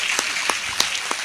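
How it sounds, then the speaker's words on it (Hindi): An audience claps at a Hindi poetry recital by Hariom Panwar. The applause is a steady wash of many hands, with a few sharper claps standing out, and no voices. "एक बार ताली बजाई"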